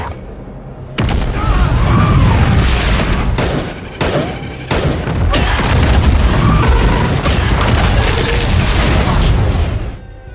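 Loud, sustained gunfire and heavy explosions from a film battle scene against alien machine invaders called Reapers, with booming blasts and sharp bursts filling nearly the whole stretch and only a brief drop near the start.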